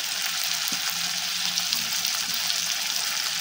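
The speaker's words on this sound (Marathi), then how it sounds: "तर हे सर्व मसाले आपण परतून घेऊ." Ginger garlic paste, chopped tomato, Kashmiri red chilli and turmeric sautéing in a pan for stuffed bhindi, a loud, even close-up sizzle with faint stirring scrapes, no speech.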